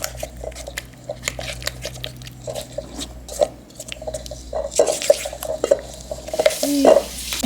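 A sour cream and sugar topping for a sweet potato cheesecake being stirred by hand in a bowl, giving soft, irregular wet scrapes and clinks that grow busier toward the end over a faint hum.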